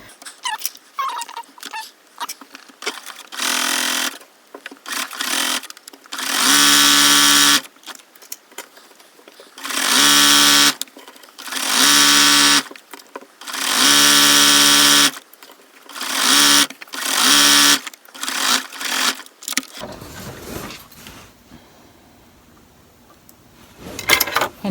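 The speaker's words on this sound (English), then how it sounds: "I'm sewing the skirts together, right sides together" A sewing machine joins doll skirts right sides together in several loud, sustained runs separated by pauses, with quiet handling sounds and a brief dog whimper in between.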